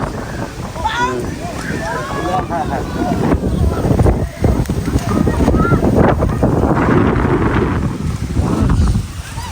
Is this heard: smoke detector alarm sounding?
no